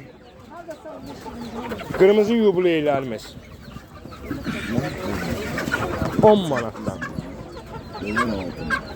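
Chickens and roosters cluck and squawk close by at a busy, noisy poultry market in Ganja, Azerbaijan, with someone speaking over them throughout.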